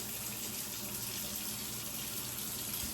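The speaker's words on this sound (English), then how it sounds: "I'm going to make sure there's water in the sink" Tap water running steadily into a kitchen sink, a continuous hissing splash at even level for the whole stretch, fairly faint, with no voices.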